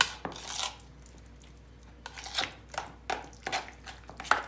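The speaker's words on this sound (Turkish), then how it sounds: "Her yerini iyicene karıştırın" A carrot and yogurt tarator is stirred in a bowl with a spoon, giving a series of short scraping and clinking strokes against the bowl, close and fairly quiet, with pauses between them and no talking.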